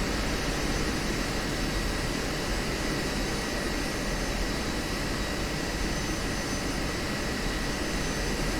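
Steady, loud jet engine roar of an F-16C in the DCS flight simulator as the throttle is eased up with brakes held, a continuous broadband rush lasting throughout with no voices.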